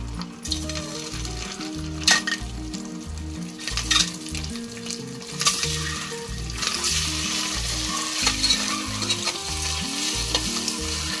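Boiled eggs fry in a pan with turmeric, chilli powder and salt. A constant loud sizzle runs throughout, punctuated by rhythmic scraping and stirring clatter, with no talk.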